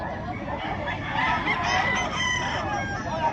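Many fighting roosters crow and cluck together in a crowded, noisy setting, overlapping calls continuing steadily and fairly near, with faint background voices.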